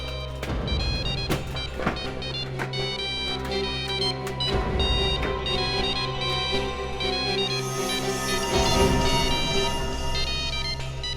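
A mobile phone rings from inside a closed trunk in a village, its melodic electronic ringtone repeating steadily for several seconds with a few knocks and thuds over it.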